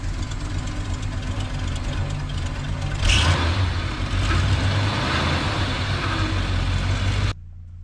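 A 1970 Dodge D-100 Sweptline pickup with a 318 two-barrel V8 idles close by with a steady, rumbling low throb and a brief slight rise in revs partway through, then cuts off abruptly.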